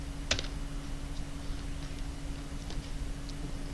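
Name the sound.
pressing enter and typing on computer keyboard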